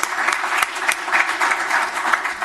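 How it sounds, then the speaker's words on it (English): An audience at a county board meeting applauds the parents of a sports team with a brief, steady patter of many hands clapping at moderate volume. "Round of applause for your parents."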